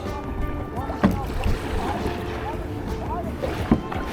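Kayak paddled through sea waves off the coast of Spain, with wind buffeting the microphone, steady water wash and a couple of sharp paddle strokes splashing close by.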